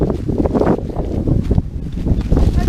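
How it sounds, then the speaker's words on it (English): Strong wind buffets the microphone outdoors on a hiking trail, a loud, steady low roar that swells and gusts throughout. "Oh, the wind."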